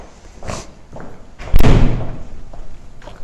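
A school back door in the FISD annex, near the wrestling area, shuts with one heavy slam, framed by softer clunks and thuds from the handle and frame.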